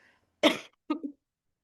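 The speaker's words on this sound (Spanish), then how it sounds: "Disculpen la tos, es que me engripé." Two short, harsh coughs in quick succession, close and fairly loud, with silence between and after.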